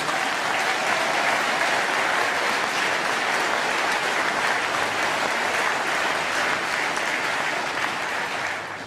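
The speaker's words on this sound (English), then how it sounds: "Please give them a round of applause." Applause at a UKIP party conference fills the hall, a loud, continuous roar of many clapping hands that holds steady for several seconds before easing slightly at the end.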